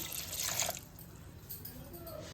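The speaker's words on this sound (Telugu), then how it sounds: "ఇదిగోండి వాటర్ పోస్తున్నాను" Water splashes and trickles into a pot of small tomatoes for a moment, bright and close at first, then settles into a quieter wet patter before a brief knock at the end.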